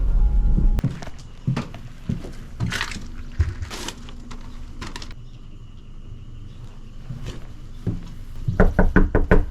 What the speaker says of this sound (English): Please knock loudly after leaving at door.